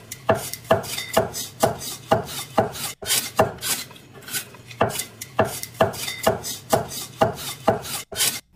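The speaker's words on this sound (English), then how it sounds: "we will now be able to see this with the chopping sound" Knife chopping generated by AI, a steady run of sharp evenly spaced cuts on a board, close and loud with no voices.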